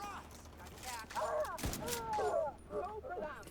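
Gunfire in a video game shooter, a short burst of shots mid-clip among faint mechanical clatter, fairly quiet and set against background game sounds.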